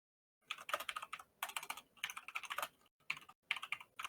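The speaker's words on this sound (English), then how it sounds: "I can't get out of the habit of also just typing out an attack." Fast clattering keystrokes on a computer keyboard come in several bursts with brief pauses, close and fairly quiet, with no voices.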